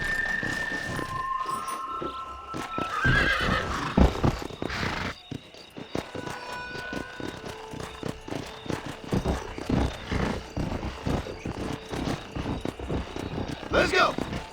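Horse hooves and a neigh from the western video game Red Dead Redemption: rhythmic clip-clop of riding runs under steady background sound, a high whinny near the start, and people talk over it throughout.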